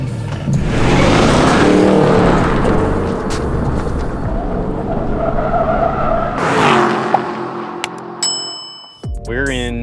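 A 2019 second-generation Porsche Panamera GTS drives along with a steady engine and road drone, then decelerates, ending with a few sharp chimes; no clear talking over it.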